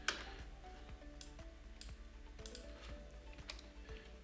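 Quiet, soft key taps on a computer keyboard come in a loose, irregular rhythm, faint and close, with no talk.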